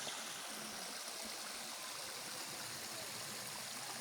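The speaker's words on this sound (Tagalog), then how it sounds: "maagos yung tubig" Water rushes steadily in a broad, constant hiss, a fast-flowing stream heard up close with no voices.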